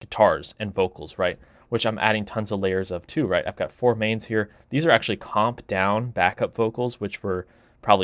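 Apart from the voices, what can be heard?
No everyday noises stand out.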